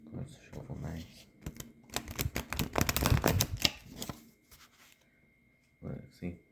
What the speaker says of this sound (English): the cards shuffle really nicely